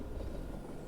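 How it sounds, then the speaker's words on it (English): Train sound in a Dark Souls game, a brief steady low rumble with faint irregular clatter, continuous and moderately loud, with no voice over it. "Now we have train."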